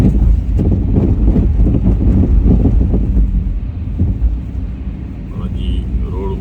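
Blizzard wind roars and buffets steadily around a vehicle driving on a snowy road, with a heavy low rumble that eases slightly toward the end while a voice talks over it.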